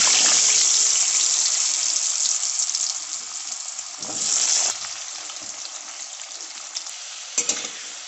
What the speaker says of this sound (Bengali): ওই তেলে এবার আলুগুলো ভেজে নেব